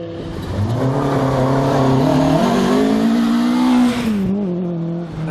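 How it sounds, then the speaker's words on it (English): Big 3-litre Porsche rally car on a stage of the Severn Valley Rally, engine roaring loud and close as it revs and shifts, pitch climbing and dipping before cutting off abruptly near the end. "result for Peter McDowell and Derek Davies as they battle to keep the big 3-litre Porsche in a straight line"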